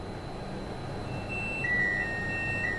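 The tilt alarm in a train cab on the London Euston to Milton Keynes route in Train Sim World 5 comes in partway through as a thin, sustained electronic tone over a low cab rumble, with no voices.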